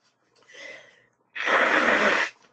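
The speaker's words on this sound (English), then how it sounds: "Sorry, I'm just blowing my nose here." A person blows their nose close to the mic: a soft snuffle first, then one loud, sustained broadband blast of about a second, with no talking.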